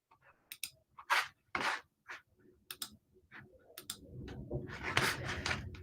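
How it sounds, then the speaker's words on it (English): Oracle cards are handled and pulled from the deck, giving a string of close, crisp taps, flicks and soft shuffling rustles in uneven bursts, ending in a longer rustling slide. "Let me pull up the card first here, because I'm going to pull 2 cards to go with this for you."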